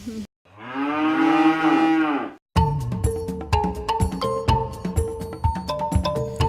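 A dairy cow at a village farm gives one long, loud, close moo, followed by a rhythmic series of metallic clinks and knocks in the farmyard.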